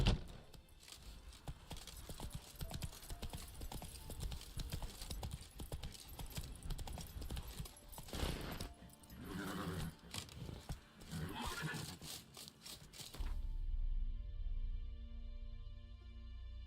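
Horse hooves clip-clop at a steady gallop in The Witcher 3 video game, loud and close with a tack jingle, over continuous background music, before the hoofbeats cut out and music carries on alone.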